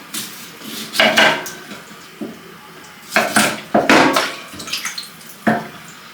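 Rice being rinsed in a pot, with water sloshing and grains and metal clattering in several short bursts, close by and fairly loud, with pauses between the splashes.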